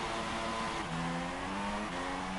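A Formula 3 race car in an F1 racing video game at a Canada round revs high and steadily, its engine note shifting between gears, loud and sustained with no voices.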